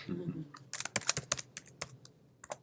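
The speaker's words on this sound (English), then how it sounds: "Typing sideways is hard." Typing on a computer keyboard held at an awkward sideways angle, a burst of close, uneven key clicks that follows a brief moment of voice and comes in quick irregular taps.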